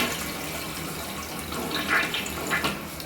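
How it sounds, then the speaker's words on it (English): An old bathroom toilet that fails to drain is flushed, a steady rushing and trickling of water at moderate loudness with no talking and slight surges near the end. "So this is what happens when you flush the toilet."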